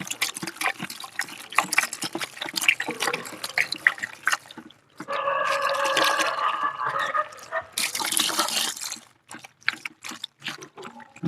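One litre of water is poured into a chemical solution, starting with scattered splashes and then turning into a steady gushing stream for several seconds before it trickles off and stops.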